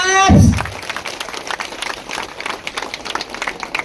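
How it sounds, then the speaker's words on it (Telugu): An audience of women at a temple groundbreaking event claps to welcome local legislators, lively scattered clapping continuing steadily after a brief loud thump and ringing tone at the start. "గట్టిగా క్లాప్స్."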